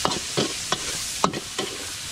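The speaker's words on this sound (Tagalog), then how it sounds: "So ilalagay na natin yung sibuyas natin." Onion and garlic sautéing in a pan, with periodic stirring scrapes and bursts of sizzle about every half second over a steady frying hiss, close and fairly loud.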